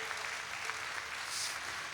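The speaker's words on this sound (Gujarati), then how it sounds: "જોરદાર તાળી છે." A large religious gathering claps together, steady and sustained, with a broad wash of applause that swells slightly toward the end and no voices standing out.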